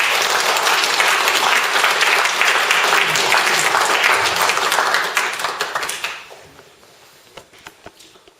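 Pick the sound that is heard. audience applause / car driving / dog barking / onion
audience applause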